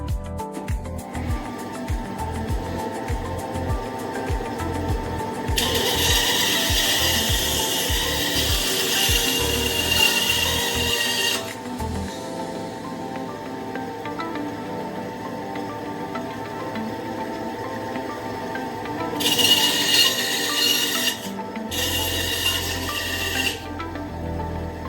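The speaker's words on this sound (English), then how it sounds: "I'm going to try and clean this up with a bandsaw real quick." A bandsaw cuts wood in a workshop, with bursts of loud, bright rasping cutting from about 5 to 11 seconds and again in two shorter bursts near 19–23 seconds, over steady motor hum.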